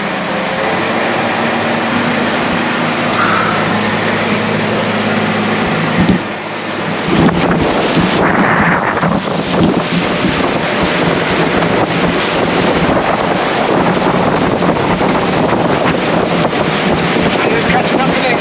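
Strong gusting wind buffets a truck at a boat ramp in the Netherlands, a loud, continuous roar of wind noise with water and engine sounds underneath and people talking over it.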